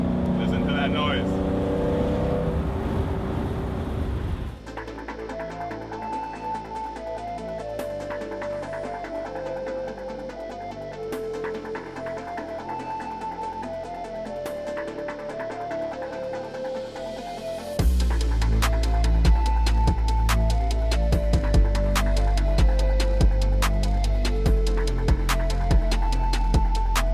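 An air-cooled 1969 Porsche 911 engine runs while driving, a steady mechanical drone heard from inside the car that swells noticeably louder partway through as the engine works harder.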